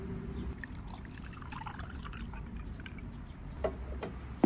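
Iced coffee pouring from an opened bottle into a cup at a café in Cyprus, a soft continuous trickle with faint drips and a clink near the end, quiet and close.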